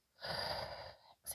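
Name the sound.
deep inhale during yoga exercise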